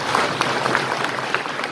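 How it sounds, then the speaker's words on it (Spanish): A small audience gives scattered applause at a 50th wedding anniversary celebration, with light, uneven claps at moderate distance. "Y les damos un fuerte aplauso."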